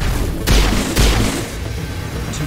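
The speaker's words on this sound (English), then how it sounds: "Two shots." Two heavy gunshots in Mass Effect during a battle, spaced about half a second apart, each a sharp booming crack over a dense rumbling background.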